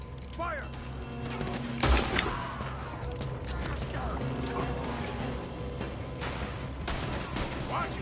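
Gunfire in Red Dead Redemption 2 during a chaotic shootout, with a heavy blast near two seconds among scattered shots and mechanical clatter, under shouting voices.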